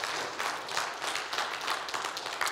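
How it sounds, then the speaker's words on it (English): A church congregation applauds with sustained, full clapping that holds steady and unbroken from start to finish. "Can we give him a round of applause?"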